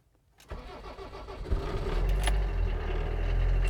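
A van engine cranks over and catches, settling into a steady rumbling idle that holds loud and close for the last couple of seconds, with no one talking.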